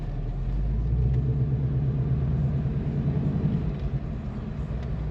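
A 2026 Ford Mustang GT in normal mode gives a steady, loud, deep engine rumble as it pulls out of a driveway, with no talking over it.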